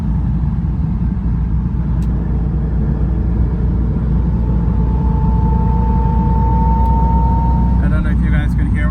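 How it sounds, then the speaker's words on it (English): A Porsche Spyder RS on summer tires drives in the rain, its engine a loud, steady low rumble with road and water hiss, a rising tone emerging partway through. "because the car is so loud"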